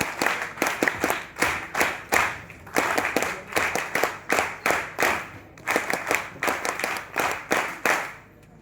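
Rhythmic group clapping from an audience at an NSS environmental gathering on a college campus, with steady repeated beats and slight unevenness, loud and near, with no talk.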